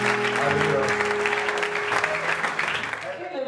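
A church congregation applauds during a worship service, brisk clapping under a sustained tone, with a voice speaking over it, fading toward the end.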